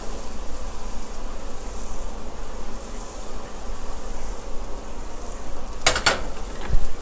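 Butter and melting cheese for a BBQ chicken omelet frying in a pan, a steady close crackling sizzle throughout with a few sharp clatters near the end.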